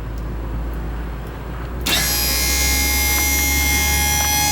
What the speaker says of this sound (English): When you hit auto level, it's going to adjust the front landing gear, and then it will adjust the rears.